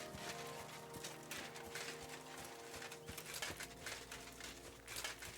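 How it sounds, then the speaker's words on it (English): Horse hooves clip-clop in a steady walking rhythm in the medieval game Kingdom Come: Deliverance II, close and continuous, with faint birdsong in the background. "Look at these horses."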